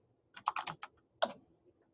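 Someone types a search term on a computer keyboard, a short run of close, crisp key clicks in a brief burst followed by one more keystroke in a quiet room.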